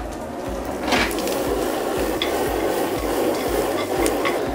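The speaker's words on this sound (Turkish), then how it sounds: "Evet, bademimiz, soğanımız biraz kavruldu." Almonds and onions roast in a pan while being stirred, giving a steady close sizzle broken by repeated scraping strokes of the spoon, with no talking.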